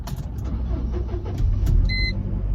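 A car engine that had overheated and died cranks and catches, its low rumble rising, followed by a short electronic service-reminder chime from the dashboard.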